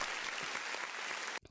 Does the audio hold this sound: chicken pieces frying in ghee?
no